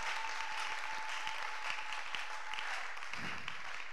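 A church congregation gives a faint, distant round of applause. The clapping stays steady throughout, under a constant low hum.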